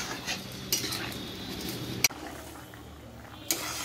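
A spoon stirs gourd and egg broth in a metal pan, with a soft bubbling simmer underneath and three sharp clinks against the pan's side.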